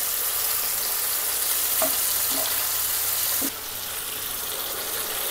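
Tomato pickle paste frying in a pan, a loud, dense, continuous sizzle close by with a few soft stirring taps, dropping slightly in level midway.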